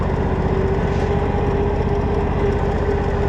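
A lawn mower engine runs steadily while cutting roadside grass, a loud, continuous droning hum with a constant pitch and no pauses.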